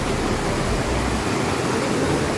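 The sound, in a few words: small waterfall or stream water crossing on Parasnath hill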